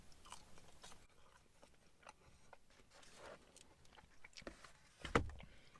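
A chip dipped in sauce is crunched and chewed close up, with soft irregular bites and mouth sounds building to a sharp crunch near the end.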